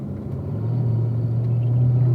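Race car engine pulling hard on a track as the driver squeezes on the power, a loud, steady droning rumble that builds slightly and holds close and continuous.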